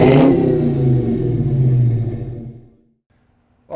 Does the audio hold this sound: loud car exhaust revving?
yes